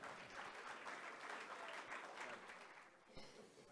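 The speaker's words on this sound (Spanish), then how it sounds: "Les pido un fuerte aplauso para recibir al licenciado Rodolfo López" At the XIV Foro Nacional de Turismo in Mexico City, an audience gives a steady round of applause to welcome Rodolfo López Negrete Coppel, with an even wash of clapping that dips slightly near the end.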